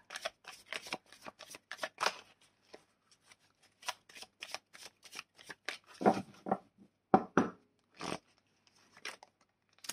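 Oracle cards are shuffled and drawn by hand, producing bursts of crisp riffling and flicking broken by short pauses. Close and fairly soft, with no talking over it.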